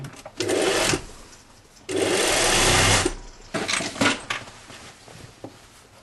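Sewing machine running in two long bursts, stitching the back-to-front seam of a jacket with a 1 cm seam allowance, with shorter fabric-handling bumps and faint movement between runs.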